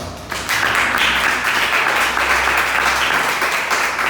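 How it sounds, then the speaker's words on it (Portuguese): A church congregation applauds in praise after a sermon, a dense, steady wash of clapping that swells in after a brief quieter start and holds loud through to the end, with a low hum underneath. "Você pode aplaudir Jesus por essa palavra?"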